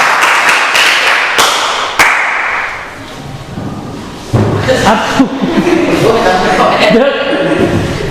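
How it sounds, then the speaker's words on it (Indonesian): Classmates give sharp claps and thumps for a student after a backward roll in a school gymnastics lesson, with a few loud bursts and cracks amid voices in a lively, echoing room. "Tepuk tangan Faruk."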